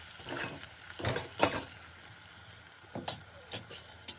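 Homemade spice mix tipped into Gujarati dal in a pot, giving soft sizzling and several scraping stir strokes in uneven bursts, close and fairly quiet, with pauses between movements.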